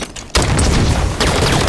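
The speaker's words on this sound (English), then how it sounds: "throwing grenades." Grenade explosions in the video game Halo 5, two loud blasts about a second apart, each followed by rumbling debris, heard alone without talk.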